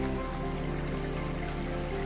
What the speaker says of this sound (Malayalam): ഇതിപ്പോൾ നേരെ അതിൻ്റെ ഉള്ളിൽ നിന്ന് വെള്ളം വരുന്നുണ്ട് കേട്ടോ.